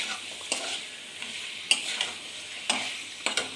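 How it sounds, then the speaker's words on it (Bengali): Fish coated in spices stir-fried in a pan: a steady, soft sizzle with a few sharp scrapes of the spatula at irregular intervals. No one speaks. "মাছটাকে মশলা দিয়ে ভালো করে কষিয়ে নেব।"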